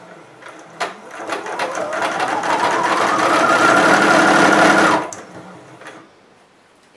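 A sewing machine stitching a continuous seam on petrol-coloured fabric for a hooded loop scarf, whirring loudly and close up as it speeds up, runs steadily for about four seconds, then stops, with no talk.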